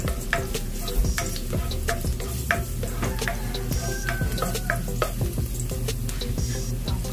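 Garlic fries in hot cooking oil on a stove for a sardine soup dish, a dense crackling sizzle close up, peppered with frequent pops and spatula taps throughout.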